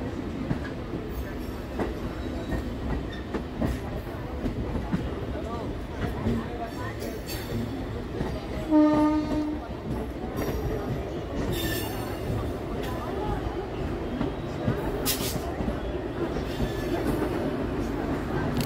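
A Naihati to Bandel local train runs along the line with continuous rumbling wheels, clicking rail joints and intermittent high metallic squeals. A voice speaks over the steady train noise.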